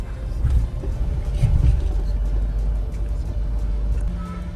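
Low rumbling road traffic in Manali, vehicles passing steadily nearby with a continuous engine drone and faint scattered clatter, moderate in level throughout.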